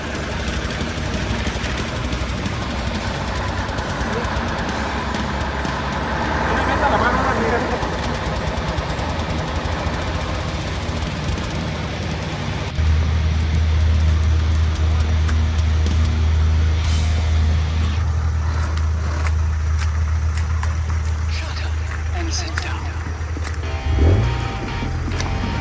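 An Unimog's mechanical winch drags a car out of deep mud in the jungle at night, a steady low mechanical drone running under a diesel engine, with a heavier grinding pull setting in partway through and a sharp clunk near the end.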